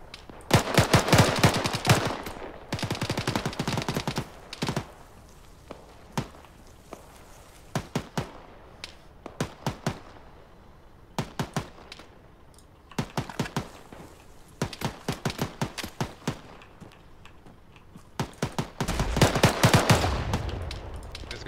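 Bursts of automatic and single-shot gunfire from an Arma 3 firefight around a graveyard, loud repeated volleys and clusters of shots with short gaps, some heavier near bursts at the start and end.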